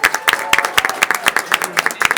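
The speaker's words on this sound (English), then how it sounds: "Let's give them another round of applause." Applause at a township council meeting, a small room of people clapping in a brisk, dense, fairly loud burst from start to finish, with faint voices underneath.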